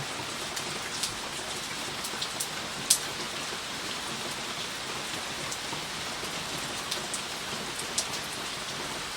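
Continuous rainfall hisses evenly, with occasional louder droplets tapping nearby against the steady wash.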